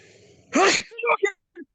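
A single sharp sneeze bursts out close by, followed by a few short breathy vocal sounds.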